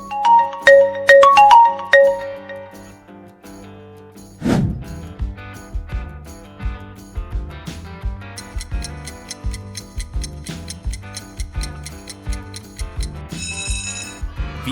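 A Vivo smartphone ringtone plays as a melodic electronic tune with a short chime intro, then a bright repeating pattern over a steady beat, loud and close with no talking.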